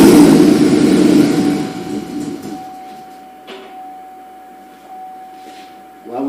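A 2009 GMC engine with no working fuel pump catches briefly on residual rail pressure, a loud rough burst for about two seconds that dies away, leaving a faint steady hum and a few light clicks.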